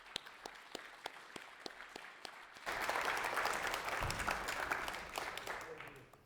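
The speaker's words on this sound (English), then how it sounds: "let's give a warm welcome to a Southern gal from Georgia to Lansing, Michigan. Denise." Warm audience applause greets a speaker at a seminar in Lansing, Michigan, scattered claps at first, then swelling into full, steady clapping from a sizeable crowd that carries on to the end.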